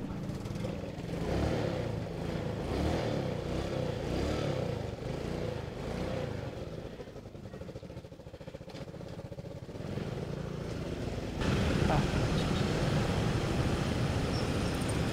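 A borrowed motorcycle with no headlight is ridden through traffic, its mid-range engine droning steadily with slight rises and falls in pitch and a louder swell near the end, with no talk over it.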